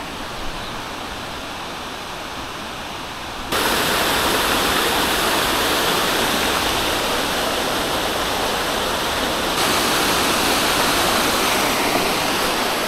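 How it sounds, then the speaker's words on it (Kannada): A monsoon-swollen waterfall below a dam roars as a loud, unbroken rushing wash of water, its level stepping up partway through as if approaching closer, with no voices. "ಅದಕ್ಕೆ ವಾಲ್ವಾ ವಾಟರ್ ಫಾಲ್ಸ್."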